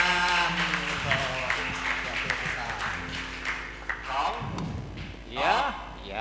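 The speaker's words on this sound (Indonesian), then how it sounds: "Ya, tepuk tangan." A church congregation applauds at a Christmas service, clapping blending with voices and a bit of music, moderately loud and steady for several seconds.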